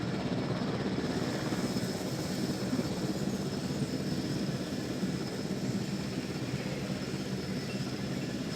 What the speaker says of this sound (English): this large helicopter just shows up out of nowhere and very slowly transports the dinosaur